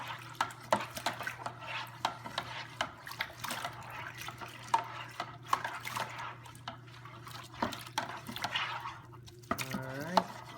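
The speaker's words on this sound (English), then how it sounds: "So try to stir it in really well." Bentonite clay stirred into a Grenache rosé wine kit, a soft, steady swishing of liquid with faint drips and occasional light clinks of the spoon against the container, heard close and quiet.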